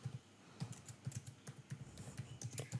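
Typing on a computer keyboard, a quick irregular run of light clicking keystrokes, close and clear with no talk.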